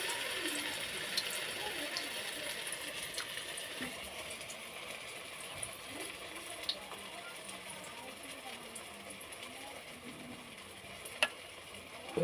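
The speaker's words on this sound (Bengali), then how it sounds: "আমি কড়াইতে তেল দিয়ে দিয়েছি, এখন আমি বড়াটা দিয়ে দিচ্ছি।" Stuffed fritters dropped one by one into hot oil in a wok, giving a faint continuous sizzle with small pops and light stirring scrapes.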